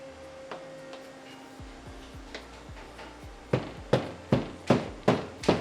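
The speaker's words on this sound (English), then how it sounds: "giving it a little tap just to make sure all the air's out of it completely" Saddle tree mould with laminate sealed under a vacuum bag, tapped by hand to work out trapped air: a series of sharp knocks, sparse and light at first, then louder, evenly spaced taps near the end.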